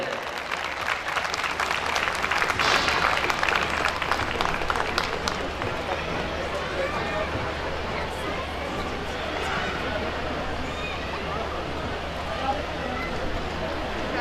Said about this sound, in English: Your applause will push them further to new heights.